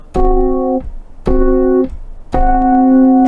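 A piano tritone, two notes three whole tones apart struck together, sounded three times with short gaps between, each dyad ringing briefly.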